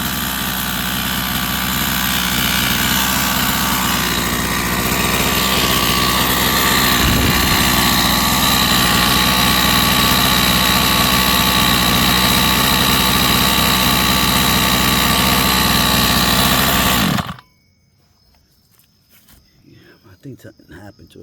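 A Rovan 45cc gas engine with a head that has worked loose runs steadily and loudly with a dense, buzzing drone, then cuts off abruptly, leaving near silence with faint background noise.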